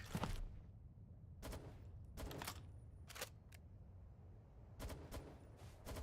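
Single gunshots ring out in Palworld, about seven sharp reports spaced irregularly over a few seconds against a quiet background.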